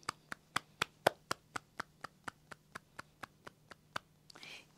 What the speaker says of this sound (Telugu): ధ్యానానికి చప్పట్లు.